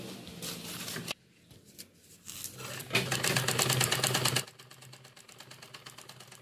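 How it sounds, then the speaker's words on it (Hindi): A sewing machine stitching fabric for a homemade travelling bag runs in fast rhythmic bursts, a short pause and then a louder steady run before easing into quieter stitching. "यहाँ पे सिलाई हम 2-3 बार कर देंगे।"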